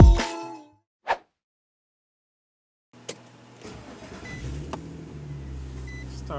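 A car, an Infiniti G35 or Nissan 350Z, starts after a few separate clicks and thumps, then its engine settles into a low, steady idle, heard close by on a cold day.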